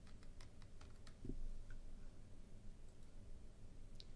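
Keys on a computer keyboard tapped in a quick irregular run of light clicks, faint against a steady background hiss, followed by a few scattered single taps.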